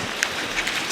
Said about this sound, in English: And we got creamed by hail.